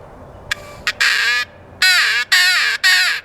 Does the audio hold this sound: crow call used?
yes